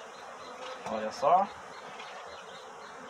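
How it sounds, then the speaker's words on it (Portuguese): A large honeybee swarm hums in a steady, close drone during a hive rescue, and a voice briefly speaks over the buzzing. "Bastante abelha. Bastante mesmo, o enxame é muito grande."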